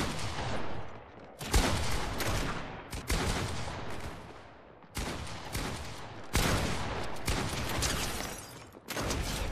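Sustained rapid gunfire in Fortnite, heavy close bursts of many shots in a row separated by short pauses, loud and continuous with booming impacts.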